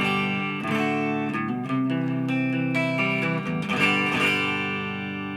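Electric guitar through a CR120 amp with a little reverb, played alone as sustained chords with fresh strums throughout, bright and glassy with little low end.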